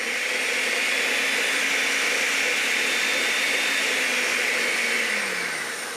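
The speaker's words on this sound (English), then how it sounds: "Pureeing the shallots and the garlic. Going to go high now. Sorry, a little noisier." A blender purees shallots and garlic at high speed, a loud, continuous whirring drone close by that runs unbroken and eases off slightly at the very end.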